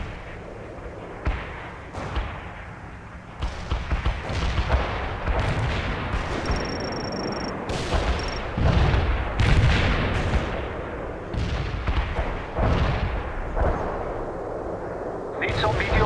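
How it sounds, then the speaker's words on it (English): Mortar artillery strikes in World in Conflict thud and boom repeatedly at close range, overlapping with scattered gunfire and game radio voices throughout. "We are targeting mortars at the provided coordinates."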